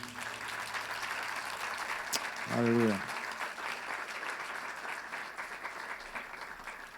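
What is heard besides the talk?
congregation applauding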